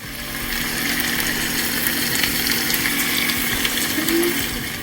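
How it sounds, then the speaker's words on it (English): Baby spinach is rinsed under running tap water, giving a steady, loud, close rush of flowing and splashing water that continues unbroken with no talking. "I'll rinse it, strain it"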